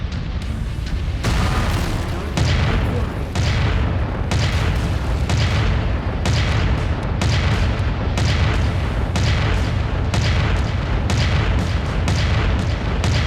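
Mech weapons blasting in MechWarrior 5 Mercenaries, with a Mauler firing: loud, dense, continuous booms and explosions rolling one after another, heavy low rumble filling the whole stretch with no pause.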